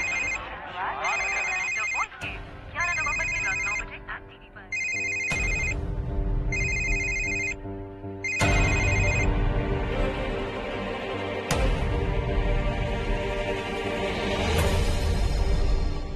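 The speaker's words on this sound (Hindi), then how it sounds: "रमेश का फोन?" A phone ringtone repeats in regular bursts of bright electronic tones, with music and voices building beneath and taking over later.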